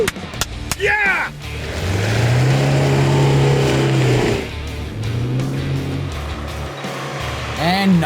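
An Isuzu D-Max 4WD climbs a hill track in the Victorian High Country, its engine droning and rising and falling in pitch for several seconds, with sharp clicks, bumps and a short pause partway through.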